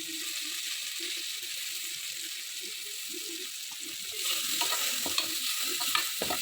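Mint and coriander sauté in a hot pan, a steady bright sizzle with soft stirring scrapes and clinks underneath, growing a little louder toward the end, close and continuous with no talking.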